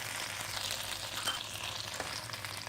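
Afghani malai chicken cooking in a wok over high flame, giving a faint, even sizzling hiss with a few small crackles throughout.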